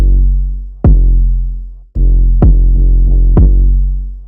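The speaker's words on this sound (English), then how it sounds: "I got this classic kick and room for kick 808, and it sounds like this" A classic kick drum paired with a long booming 808 bass in a hard synth trap beat, three punchy hits each trailing into sustained deep bass, loud and up front.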